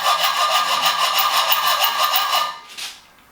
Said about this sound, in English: just a little coping saw that I use